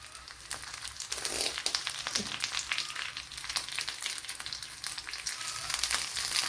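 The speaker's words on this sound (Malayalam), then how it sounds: "ഒരു ടേബിൾ സ്പൂൺ ഓയിൽ ചേർത്ത് കൊടുത്തിട്ടുണ്ട്, അതേപോലെ കടുക് ചേർത്ത് കൊടുത്തിട്ടുണ്ട്" Mustard seeds, shallots, dried chilli and curry leaves sizzle in a tablespoon of hot oil while tempering a papaya curry, a steady close crackling hiss with scattered pops and no talking.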